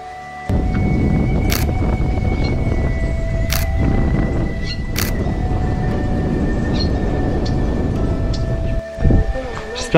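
Strong wind gusting on a cold, high mountain ridge near Mont Blanc, a loud broadband roar buffeting steadily for most of the stretch with a few sharp knocks, before it briefly drops near the end.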